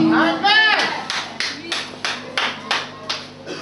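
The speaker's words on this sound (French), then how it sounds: "Ce n'est pas la peine d'applaudir." A church congregation claps in a steady rhythm of about eight sharp, evenly spaced claps, close and fairly loud, after a voice briefly speaks at the start.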